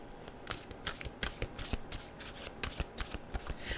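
Mantra cards shuffle in quick repeated riffles, a dense run of crisp papery flutters and snaps, close and steady with no talking.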